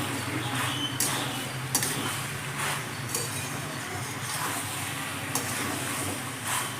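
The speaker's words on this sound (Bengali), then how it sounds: "মিশিয়ে দিয়ে গ্যাসের ফ্লেমটা আমি বাড়িয়ে নেবো, বাড়িয়ে দিয়ে ভালো করে এবার নেড়ে নেবো।" Chicken macaroni pasta is stirred in a pan over a high gas flame, giving a steady sizzling hiss with soft scraping strokes of a utensil throughout.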